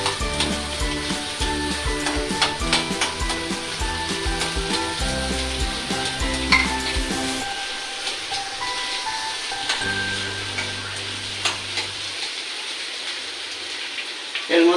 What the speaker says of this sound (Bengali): আলুটাকে এইভাবে একটু ভেজে নেবেন, সিদ্ধ করে।